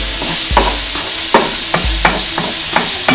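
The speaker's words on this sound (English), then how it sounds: "The onions has natural sugars in them, so you just want them to caramelize a little bit." Onions caramelizing in a frying pan give a loud, steady sizzle with rhythmic spatula scrapes and stirs about every half second, close up and without speech.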